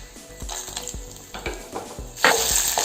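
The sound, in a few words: urad dal frying with mustard seeds and dry chilies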